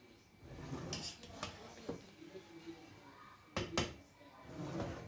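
A pot lid is lifted off steamed sweet mutanjan rice, giving a few scattered metallic clanks and knocks, two sharper clatters standing out, faint and close with soft handling noise between.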